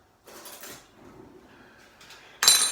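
A spoon dips into a tub of pre-workout powder with soft rustling scrapes, then ends in a bright metallic clink, close and quiet with no speech.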